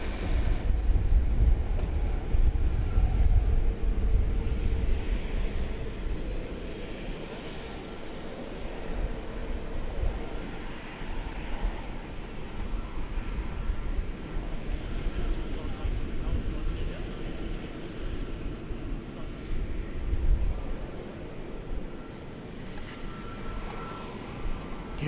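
A Cathay Pacific airliner approaches at DFW Airport, a steady broad jet roar that swells and rumbles on throughout, with a faint voice heard over it.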